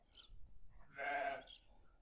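A single short bleat from a sheep or lamb rises over quiet farmyard background, faint and somewhat distant.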